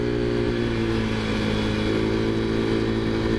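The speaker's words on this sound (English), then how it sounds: "it seems like it's idling a whole lot better" A Taotao Zummer scooter engine idles with a steady, fairly loud low mechanical drone and buzzing hum, held even throughout with no revving.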